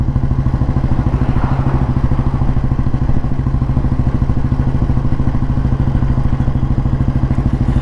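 A 1957 Royal Enfield Bullet G2 vintage motorcycle thumps along under a rider, its loud, steady single-cylinder beat pulsing low and even throughout, close and continuous.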